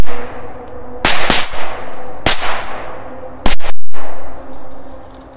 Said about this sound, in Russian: Жаль, это на один взрыв.